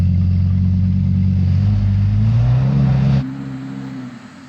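An Audi R8 with winter tyres, automatic gearbox and stability control on strains against a steep slope; the engine drones loud and steady, its pitch rising slowly before the revs drop away sharply and fade to a low idle.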